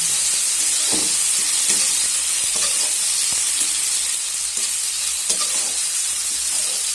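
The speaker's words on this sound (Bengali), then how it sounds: "এবার পেঁয়াজের সঙ্গে খুব ভালো করে মিশিয়ে কষে নেব" Onions fry with ginger, garlic and green chili paste in a hot pan, a loud steady sizzle and hiss throughout, broken by faint scraping stirs of a spatula, with no talking.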